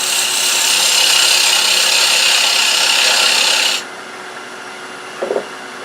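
Wood turned on a lathe for a door stop, a loud, steady hissing scrape of the cutting tool against spinning wood for about four seconds, then a quieter hum and a couple of light taps.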